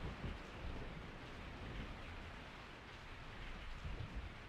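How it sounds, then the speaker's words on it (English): Steady rain falls in Resident Evil 3, a soft, continuous hiss of drops with low rumbling beneath, faint and even throughout with no voices. "I woke up to the sound of falling rain"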